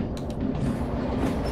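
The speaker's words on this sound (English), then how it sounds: "let me just let the train go on its own" A train rolls along the rails in the video game Derail Valley, a steady low rumble with faint wheel clatter, close and continuous with no voices.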